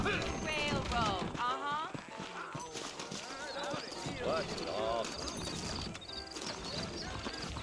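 Horse hooves clip-clop steadily in Red Dead Redemption as saddled horses move, with a whinny and western voices talking over the rhythmic hoofbeats.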